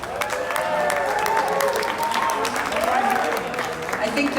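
An event crowd applauds a band at a music competition, a continuous wash of clapping with scattered cheers and voices mixed in, holding steady throughout.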